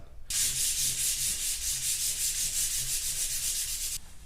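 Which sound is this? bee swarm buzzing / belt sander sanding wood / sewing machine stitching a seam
belt sander sanding wood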